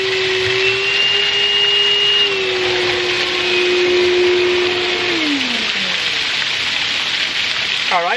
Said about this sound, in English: So I'm gonna stick the vacuum into right here and get this unit going.